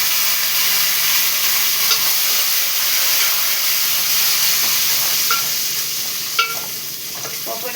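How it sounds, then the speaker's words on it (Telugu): Curry leaves in a tempering of hot oil fry with a steady loud sizzle and hiss, with a few sharp crackles near the end and no talk. "పోపు వేగిపోయింది."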